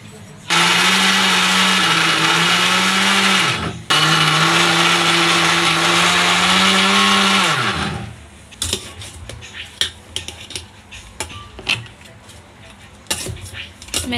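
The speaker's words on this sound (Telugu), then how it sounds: "ఈలోపు మనం మిక్సీలో బ్రెడ్ వేసాం కదా," A mixer grinder pulverises bread into powder with a loud, steady whirring roar in two long bursts separated by a brief pause, followed by clinks and clatter of the jar and utensils while someone talks.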